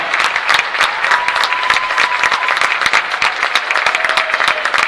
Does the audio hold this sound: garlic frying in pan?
no